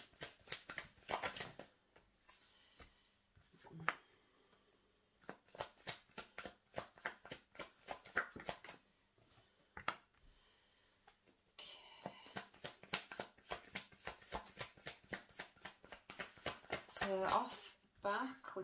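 Tarot cards shuffled on a table, crisp rapid riffling bursts repeating in short runs with pauses between them, close and clear.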